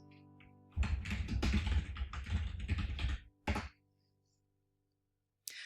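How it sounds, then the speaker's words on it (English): A quick burst of typing on a computer keyboard, dense close key clatter for a few seconds, then a short second burst and a single late tap, no talking. "in the title, type City Directories."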